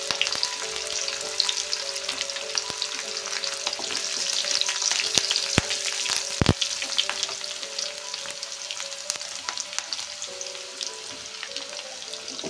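Onions and curry leaves fry in hot oil for an ivy gourd masala curry, a continuous close sizzle with occasional sharp pops and crackles and no talking.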